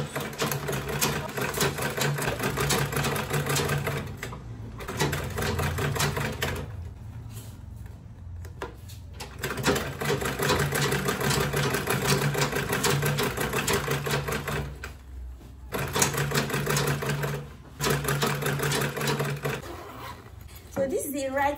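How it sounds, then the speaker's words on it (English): Sewing machine stitching a quilted tote bag runs in long continuous bursts with brief pauses between seams, close and steady, while a voice talks over it at times. "I'm just going to sew."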